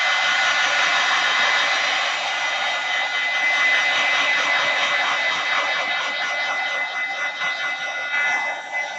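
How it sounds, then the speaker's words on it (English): A handheld dryer blows continuously at close range while drying a DIY wordsearch coaster, producing a loud, even whooshing roar with a slight shift in tone near the end. "Okay, so I'm going to keep drying, and then I'll be right back."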